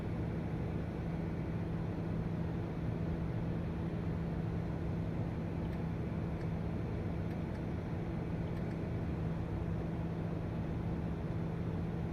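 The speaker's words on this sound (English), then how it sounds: "I like to hear the engine here." Steady turboprop drone of a TBM 9 single-engine aircraft in the X-Plane 11 flight simulator, heard on approach with a constant low hum and broadband roar, continuous and even throughout without speech.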